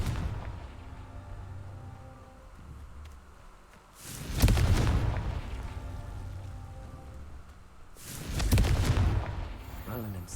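Two loud fire-spell explosions burst out in Hogwarts Legacy, each a sudden booming blast with a crackling, hissing tail, spaced a few seconds apart over a low ambient background.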